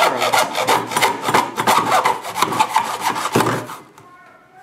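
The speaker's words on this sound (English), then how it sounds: "I'm going to hold the miter box down firmly, and I'm going to hold the frame down into that corner, and that's going to take light easy strokes" A handsaw works through a wooden screen window frame held in a miter box, with quick, even rasping strokes close by before the cutting stops near the end.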